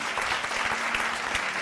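Audience applause in a Spanish-language television studio during a Sunday evening talk broadcast, dense steady clapping from many hands throughout with no voices over it.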